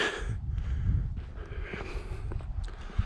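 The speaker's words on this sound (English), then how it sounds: "Apologize for the heavy breathing." Heavy, labored breathing close to the mic, with puffing exhales and gasps over scuffing steps on the Courthouse Butte Loop Trail in Sedona, Arizona, on an overcast day.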